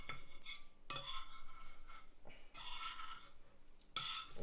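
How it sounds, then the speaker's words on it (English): A spoon scoops baked beans from a tin, giving repeated scraping and clinking bursts of metal against metal. The sounds are close and fairly loud, coming in several quick strokes. "I'm trying to get a spoonful"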